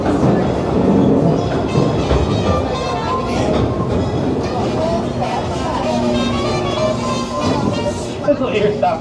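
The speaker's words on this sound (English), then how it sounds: "Please wait for the train to stop, stay seated until the train stops." Disneyland Railroad train rumbling steadily along the track as it pulls into New Orleans Square Station, with constant wheel and car noise close by and an amplified announcement voice speaking over it.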